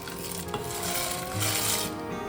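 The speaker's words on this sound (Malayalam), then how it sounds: "അടയിട്ടിട്ട് നന്നായിട്ടൊന്ന് ഇളക്കി കൊടുക്കണം" Rice ada being stirred into water boiling in a pot for ada payasam makes a close, continuous bubbling wash, with a few soft scrapes and clinks of the spoon against the vessel.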